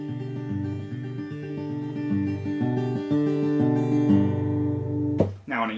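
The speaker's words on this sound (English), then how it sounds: "the idea behind Travis picking is that your thumb is playing the bass notes on a guitar" Travis-style fingerpicking on a guitar, the thumb alternating bass notes under plucked melody strings in a steady rolling pattern, close and clear, ending in a brief sharp strum or scrape.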